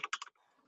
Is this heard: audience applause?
no